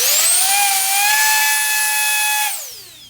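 A VortexHaus variable-speed blower roars loudly and steadily at close range with a piercing jet-like whine, then winds down smoothly as it is switched off near the end.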